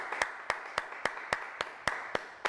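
A single pair of hands claps at an even pace, about nine crisp claps close by, with no other sound between them.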